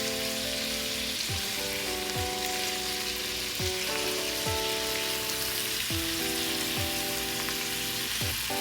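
Sweet onion fries in a pan with a dense, even crackling sizzle, faint and steady throughout, with a few soft tonal clinks in the background and no talk.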